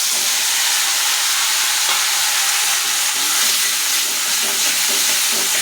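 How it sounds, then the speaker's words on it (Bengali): A paste of ginger, garlic, onion and chili frying in a pan gives a steady, close, hissing sizzle with faint stirring scrapes, continuous and even in loudness. "তো আমি এগুলো বাটা দিয়ে দিচ্ছি এখন"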